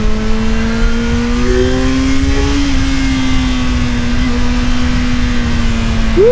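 A Kawasaki Z1000 motorcycle engine drones loud and close while riding, holding a steady pitch that climbs as the rider accelerates through second gear, with a rising rev at the end.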